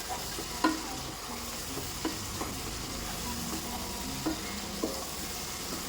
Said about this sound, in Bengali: তাও আমি আরও 1 থেকে 2 মিনিট খুব ভালোভাবে কষিয়ে নেব